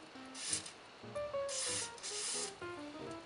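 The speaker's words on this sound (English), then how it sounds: "But we'll just give it a spray" Several hissing bursts from an aerosol spray can, short then longer, close by, with light handling and rattling noises between sprays, waterproofing quadcopter electronics.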